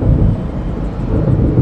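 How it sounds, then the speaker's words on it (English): Thunder from an approaching storm over a lake in the game Alan Wake, a loud, low, rolling rumble that fills the whole moment without pause. "It seems there's a storm coming."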